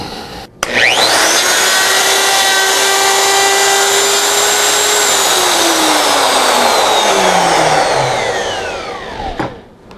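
A router cutting a dado in wood with a precision router dado jig spins up sharply, then holds a loud steady whine with a rushing cutting roar while the bit is pushed along, and finally winds down.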